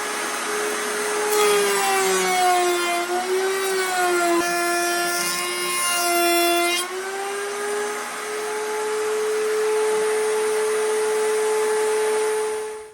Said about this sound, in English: we're going to move everything over there and cut that groove and make the rabbit on all of our pieces